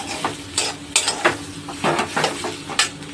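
A spoon scrapes and clanks against a pan of soybean and potato curry, irregular stirring strokes with metallic knocks and a soft sizzle beneath, close and fairly loud.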